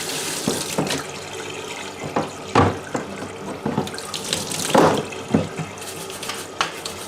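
Tap water runs and splashes while parts of an E90 still are rinsed at a sink, with irregular gushes, clinks and handling knocks up close.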